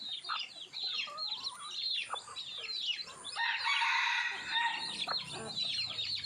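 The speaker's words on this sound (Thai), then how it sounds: "ลูกไก่ชุดใหม่นะครับ ตัวแม่นี่โคตรเหลืองนะครับ" Chickens cluck and chirp continuously, with high peeping chicks layered throughout and a brief louder burst of fowl calls midway.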